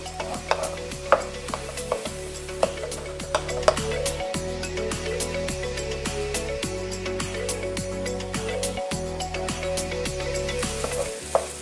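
Nasi goreng, Indonesian fried rice, being stirred and fried in a pan, with steady sizzling under repeated scraping and clinking strokes of the utensil, close and continuous with no talk.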